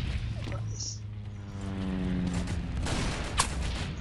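Gunfire in the World War Heroes team deathmatch shooter, several shots crackling amid game noise and a steady low hum, with a sharper report near the end while a player talks over it.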